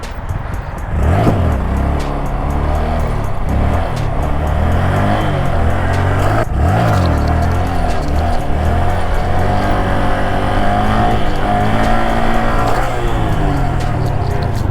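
A Honda Grom motorcycle ridden while swerving left and right, its small engine droning steadily and loudly with rising and falling revs and constant wind rush up close, a voice briefly audible.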